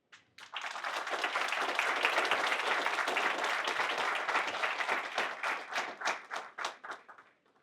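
An audience at a university academic-week lecture gives a loud, sustained round of applause that swells quickly, holds dense for several seconds, then thins into separate claps before stopping.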